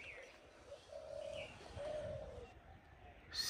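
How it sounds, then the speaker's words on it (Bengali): A dove coos near a palm tree in a foggy winter village, a few soft, low calls repeating faintly over quiet outdoor ambience with light wind and distant chirps. "ঘুঘু ডাকছে তাল গাছের এখানে।"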